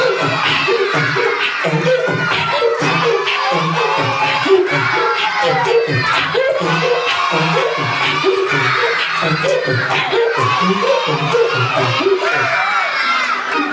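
Schoolchildren at an Indonesian elementary school event cheer, shout and clap together in a loud, continuous crowd roar with rhythmic bursts.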